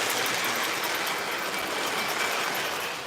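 O gauge model train running on track, a steady dense rushing rumble with faint rail clatter that stays constant and fairly near, no voices.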